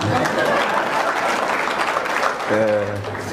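Audience applause from a crowd at a Rwandan comedy show, steady broadband clapping filling the room, with a voice breaking in near the end.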